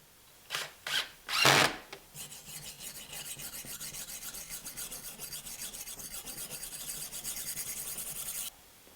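A tool scrapes along the surfaces of a forged deba knife made from a 1948 Mercury leaf spring, starting with three short strokes and then running into a steady, rapid rasping rub that lasts about six seconds before stopping.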